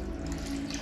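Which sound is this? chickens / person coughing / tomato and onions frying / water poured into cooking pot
water poured into cooking pot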